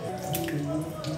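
Water pours into a bowl of flour for a dough-like batter for tropical panda chicken, an orange-chicken-style dish, making a soft, steady trickle for about a second under faint background tones.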